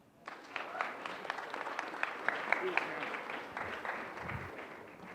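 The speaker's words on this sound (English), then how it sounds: "Let's give him a huge round of applause." Moderate audience applause greets a presenter at a startup pitch competition final, with steady clapping running under nearby voices and cheers.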